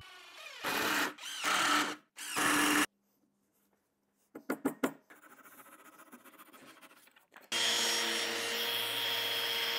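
Several bursts of a power drill whining through wood, separated by pauses, followed by a steady loud mechanical hum near the end.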